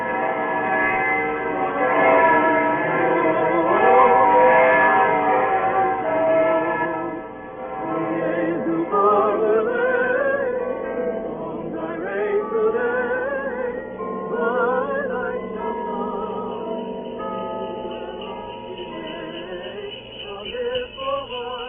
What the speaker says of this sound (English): the evening bells began to ring high up in the Staple Tower